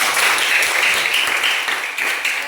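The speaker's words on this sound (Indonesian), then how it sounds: "Tepuk tangan dulu untuk kawan kita" Classmates in a classroom applaud a fellow student, a dense, steady clatter of many hands at close range that holds evenly for a couple of seconds without fading.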